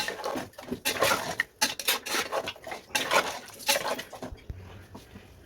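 Beef bone curry being stirred in a pot, with repeated scraping and clinking of a utensil against the metal in uneven bursts, close and moderately loud.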